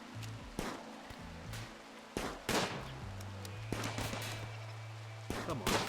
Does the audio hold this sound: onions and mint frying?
no